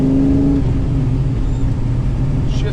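A 1966 Pontiac GTO engine revs loudly and steadily up close, its low rumble rising and dropping through gear changes with no pause.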